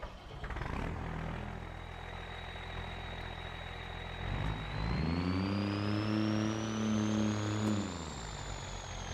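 A truck engine in Farming Simulator drones steadily, then revs up to a louder, higher roar with a whining tone before easing off.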